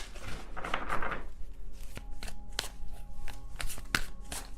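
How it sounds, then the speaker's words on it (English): Tarot cards being shuffled by hand, a soft riffling burst early on followed by a series of sharp clicks and taps as the deck is handled up close. "I don't know why I wanted to do that because I can't shuffle this card that way."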